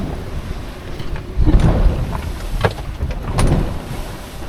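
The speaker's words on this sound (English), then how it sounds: "So we are sailing towards some random bay, like 20 miles away or something like that." Wind rushes past a sailboat heading against a two-knot current, a loud, blustery roar with gusts and water slapping at the hull, swelling at about the middle and again near the end, with no one speaking.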